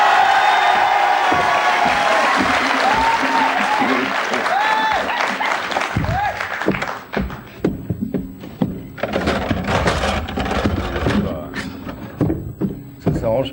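Studio audience at a 1992 French television talk show bursts into loud, sustained applause with a few cheers, rising after a stretch of talk and continuing in dense waves of clapping.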